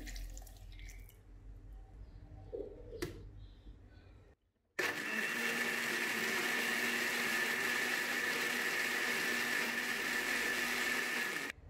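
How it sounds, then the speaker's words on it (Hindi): Blender whirring loudly and steadily as it blends cold coffee made with instant coffee, milk, milk cream and vanilla ice cream, starting abruptly after a few seconds of quiet kitchen clatter and running continuously to the end. "इसको अच्छे से ब्लेंड कर लेंगे"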